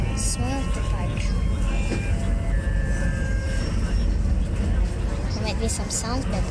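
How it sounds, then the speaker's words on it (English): An OceanJet passenger boat departs from Bohol toward Cebu, its engine giving a steady loud rumble and drone throughout while people chatter in the background. "There might be some sounds, but this is the boat sounds"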